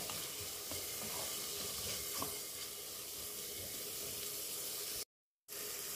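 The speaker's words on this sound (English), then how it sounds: "It has been cooking for about 5 minutes now, and I have been stirring it time to time." A creamy pasta sauce mixture with Sri Lankan flavours simmers in a pan, giving a soft, steady sizzle with faint stirring scrapes, then a brief cut to silence near the end.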